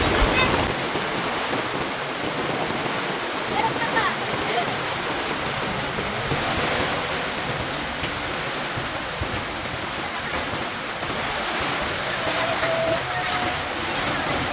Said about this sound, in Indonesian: Hujan, angin, dan sesekali ada petir.